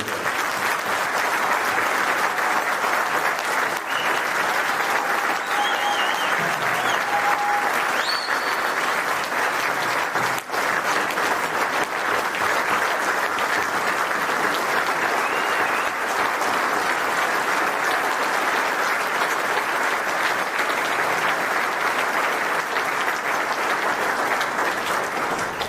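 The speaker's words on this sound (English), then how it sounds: "can we have a round of applause for Larry and Kathy?" Sustained applause from a banquet audience honoring two people at a taxidermy world show dinner, dense steady clapping filling the room at full volume without a break for about twenty-five seconds.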